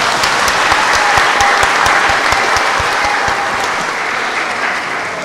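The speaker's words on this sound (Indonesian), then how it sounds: "mari kita beri tepuk tangan untuk syukur kita semua" Applause from a congregation at a Chinese New Year Mass in a Catholic parish church in Pemalang, a dense, steady clapping that lasts throughout and fades slightly toward the end.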